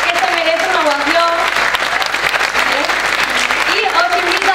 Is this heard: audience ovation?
yes